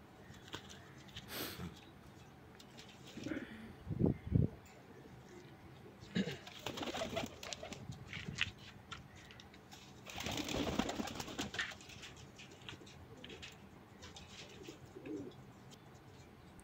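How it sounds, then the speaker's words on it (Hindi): Kalduma pigeons cooing at a pigeon seller's loft, with soft low coos and bird calls scattered through the clip over a steady background. "देखिए दोस्तों कलदुमा कबूतर"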